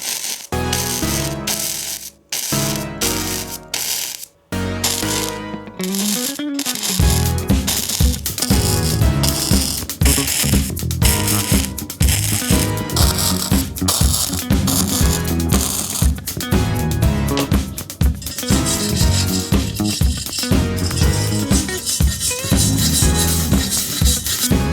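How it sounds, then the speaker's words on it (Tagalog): An exhaust pipe joint being fully welded in a DIY repair after tacking: dense, loud crackling and sputtering that runs almost nonstop, with a few choppy bursts at the start, no voices. "i-full weld na natin siya."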